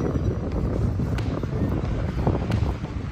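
Steady evening wind at Burnham Green, Manila, rushes and buffets against the microphone as a continuous broadband roar, with no talking.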